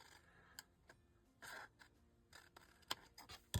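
Scissors make a handful of quiet, crisp snips cutting a small scrap off a long paper strip, close by with soft handling noises between cuts.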